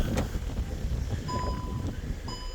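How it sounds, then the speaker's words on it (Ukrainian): Wind rumbles and buffets against the microphone at moderate loudness outdoors beside a 2020 Skoda Octavia, with faint tonal whines in the background. "сьогодні вітряна погода"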